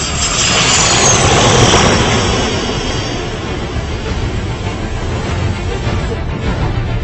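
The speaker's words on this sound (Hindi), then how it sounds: "कुछ ही पलों के बाद सुपरसोनिक स्पीड से उड़ने वाले विमानों की वापसी हुई।" A supersonic military jet of the Pakistan Air Force roars loudly as it flies back overhead, a broad rushing engine noise that swells in the first two seconds and then eases into a steady fading rumble, with no voices.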